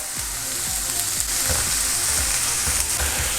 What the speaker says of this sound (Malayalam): ഇനി സവാള ഒരു ലൈറ്റ് ബ്രൗൺ നിറമാകുന്നത് വരെ ഇളക്കി കൊടുക്കുക കേട്ടോ